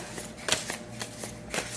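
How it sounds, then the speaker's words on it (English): Tarot cards being shuffled by hand up close, a quick series of crisp riffling bursts and taps repeating in an even rhythm, without any voice. "And let's keep shuffling and see what else we get here."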